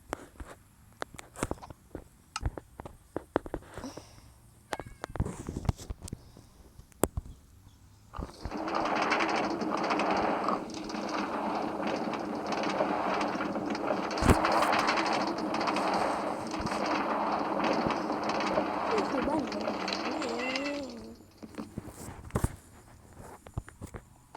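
A minecart-style tram in Minecraft rolls along rails with a steady rumbling clatter lasting several seconds, set between scattered light game clicks and taps.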